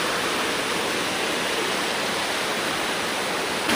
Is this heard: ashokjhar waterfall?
yes